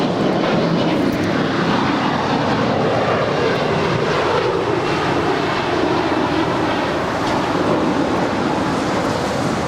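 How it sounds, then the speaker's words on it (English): An Alaska Airlines Airbus A320 arrives at LAX from Seattle with a loud, continuous engine roar. The broad rushing noise holds steady for nearly ten seconds, with no voices over it. "That is Alaska Airlines Flight 304 coming in from Seattle, Washington. It's an A320"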